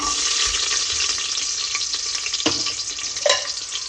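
Garlic and curry leaves frying in refined oil, a loud constant sizzle and crackle close by, with a couple of scraping stirs from a spoon and no voices.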